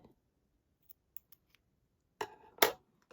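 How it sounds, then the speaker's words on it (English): Scissors give two crisp snips through the elastic cord tails of a beaded bracelet, close and clear, after a few faint clicks in an otherwise quiet room. "We're going to give them a snip."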